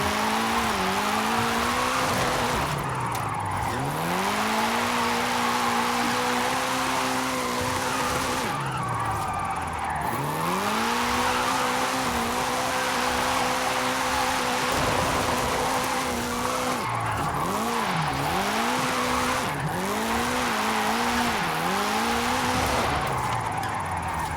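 A 2015 MG MG3 with an all-wheel-drive drift tune slides through corners in Forza Horizon 5, its engine droning steadily while the revs repeatedly dip and climb again and tire squeal runs almost continuously, loud and close.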